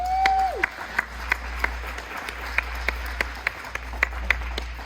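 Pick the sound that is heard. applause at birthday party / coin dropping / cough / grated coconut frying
applause at birthday party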